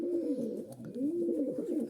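A pet pigeon coos close by, two soft rolling low coos in a slow rhythm, quiet and alone without any talk.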